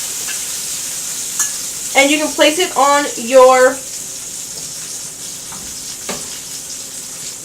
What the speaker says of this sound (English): if you don't want it to keep sizzling